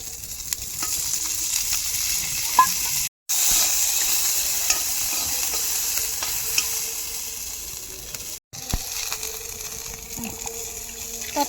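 Oil sizzles and fries steadily in a pan while matar kachori filling is cooked, a loud, continuous hiss close by with two brief gaps.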